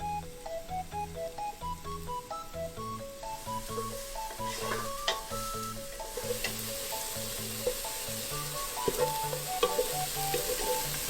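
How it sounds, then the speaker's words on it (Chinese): Frozen tofu, mature ginger, carrot and wood ear mushroom stir-frying in sesame oil with enoki mushrooms in a soup pot, a continuous sizzle and spatula scraping beneath steady melodic background music. "再放入冻豆腐、老姜、红萝卜、木耳一起炒香。"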